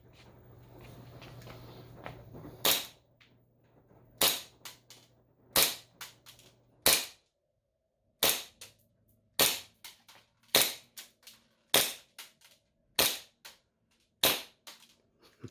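An airsoft pistol running on green gas fires BBs in a string of about a dozen sharp, loud, close shots at uneven intervals, with a faint low hum before the first shots.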